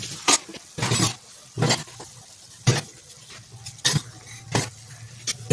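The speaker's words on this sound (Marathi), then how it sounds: "इशू हलवते आता." A spoon stirs karanji filling in a pan on the stove, making loud scraping clinks against the metal at an uneven rhythm, with a faint sizzle underneath.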